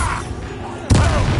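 A Bombarda spell explosion in the Hogwarts Legacy video game: a sudden loud burst near the end that lingers in a dense rumble, following a stretch of game noise.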